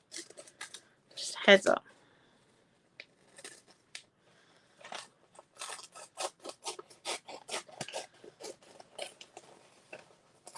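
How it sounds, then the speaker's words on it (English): Sharp scissors snip through rice paper for an art journal cover, a crisp, close cut followed by a run of lighter snipping and rustling, with someone speaking briefly between cuts. "they've got to be sharp ones to cut the rice paper out"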